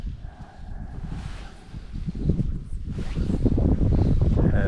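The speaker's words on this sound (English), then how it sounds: "I'm getting into the wind now" Gusting wind buffets the microphone on open water during inshore kayak fly fishing on the Indian River and Mosquito Lagoon in a cold front, a steady low roar that strengthens toward the end.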